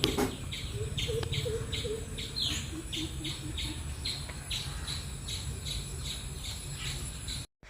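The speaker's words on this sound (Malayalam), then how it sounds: "നല്ല ഭംഗിയില്ലേ ഈ കിളികളുടെ സൗണ്ടൊക്കെ കേൾക്കാൻ" Birds chirp outdoors on an evening near an old well that was once a pond. Repeated high, short calls ring steadily over a dense insect-like hiss and low rumble, fairly loud and continuous, with no talking.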